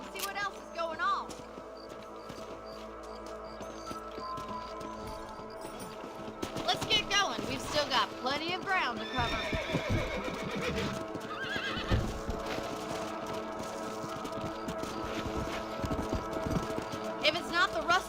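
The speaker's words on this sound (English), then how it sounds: "Let's get back on the horses and see what else is going on." Horses in the Red Dead Redemption video game neigh and whinny over steady clip-clopping hooves, with game music and a voice speaking over the riding.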